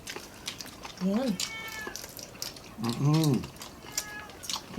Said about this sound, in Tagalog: Kaya siya ngumingiyaw.